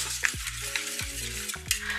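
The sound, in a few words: stirring and mashing cooking mixture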